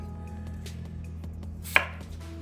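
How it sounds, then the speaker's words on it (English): A knife slices through a Granny Smith apple on a cutting board, with light taps and one sharp crisp cut standing out over a steady low hum. "But basically, cut it. Into slices, like this."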